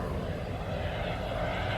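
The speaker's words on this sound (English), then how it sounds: "check out that airplane" A fixed-wing airplane flies over a sunny outdoor setting near a parked 2012 Hyundai Santa Fe, giving a steady broadband engine roar that stays fairly even and distant throughout, with no talk over it.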